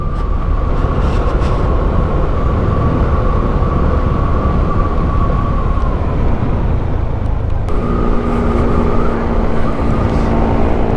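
A motor tricycle's engine passing on a road, a steady drone with a tonal whine that shifts midway as it goes by, loud and close, with no talk.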